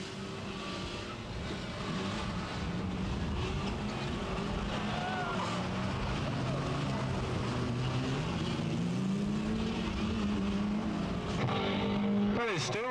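Race cars roar around Bovingdon Raceway, engines droning and rising in pitch at a distance, steady and fairly faint, with a commentator talking over them throughout.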